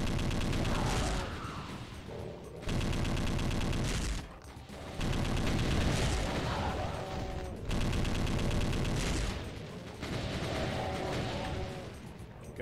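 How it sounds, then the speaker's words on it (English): Rapid, repeated gunfire bursts from a grenade launcher in the Heretical Doom mod played at max difficulty, loud and dense, in four or five long volleys separated by short gaps, with heavy game noise throughout. "It's a grenade launcher."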